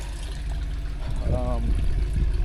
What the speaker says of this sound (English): Truck still charging the battery.